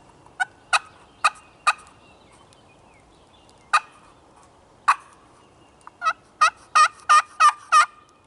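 Wild turkey gobbling in short bursts: three quick calls, two isolated ones, then a rapid string of five or six, carrying from a moderate distance.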